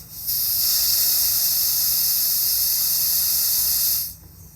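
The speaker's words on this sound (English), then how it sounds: "Now it's leaking" Steady, loud propane hiss leaking from a valve while a 1 lb cylinder is being filled, running continuously for about four seconds before cutting off abruptly.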